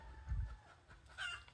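A village hen gives a couple of short clucks, faint and somewhat distant, separated by a brief pause amid quiet outdoor surroundings.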